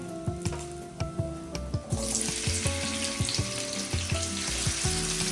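Cumin and onions drop into hot oil for veg biryani, setting off a sudden loud, continuous sizzle partway through, over a soft tonal background with light knocks.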